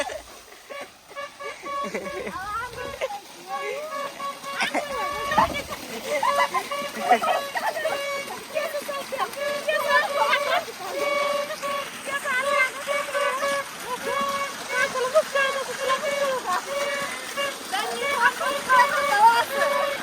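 Children play and splash in water outdoors, with excited voices, shouting and chatter over intermittent splashes throughout.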